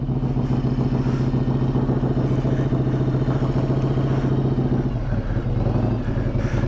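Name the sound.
carbureted 1994 Harley-Davidson Softail Heritage Classic motorcycle engine running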